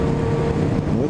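Black Yamaha XJ motorcycle fitted with a full exhaust, idling loud and steady with a constant low rumble, with no talking.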